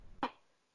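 A single short cough, close and dry, standing alone in a quiet room and fading quickly.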